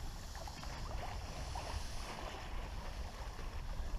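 A sailboat moving slowly on Lake Erie in a 5 to 10 mph breeze, steady low wind rush and gentle water wash against the hull, continuous and fairly quiet, with no talking.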